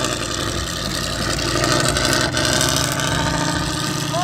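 A 4x4 car reverses off-road in a timed run, its engine droning steadily and loudly with rising revs throughout, close to the microphone and with no voices.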